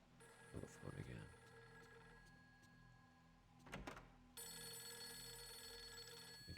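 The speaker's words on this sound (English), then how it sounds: "Oh, the phone again." A telephone rings in a video game, a steady electronic tone that holds at low volume and then grows brighter and louder partway through, with clunks and thuds at intervals.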